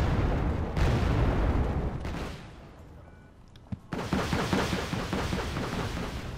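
Sustained battlefield gunfire and artillery from the Wargame Red Dragon strategy game: dense rattling bursts and booms, easing into a quieter stretch before another heavy volley erupts and keeps going, with no talk.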